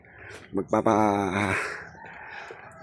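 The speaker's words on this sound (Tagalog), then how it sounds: "Magpapakain din tayo ng alaga nating manok." A chicken gives a loud, drawn-out squawking call after a couple of short clucks, close by, then quieter farmyard noise follows.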